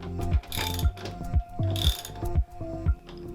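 Metal nuts being threaded and tightened onto moped shock bolts during a Puch Magnum XK rebuild give a close series of ratcheting clicks and clunks in short bursts, with no talk.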